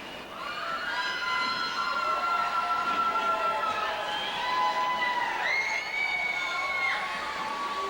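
A St. Paul Winter Carnival torchlight parade crowd cheering and shouting on a winter night, a steady outdoor roar with high children's voices and whistle-like calls rising above it throughout.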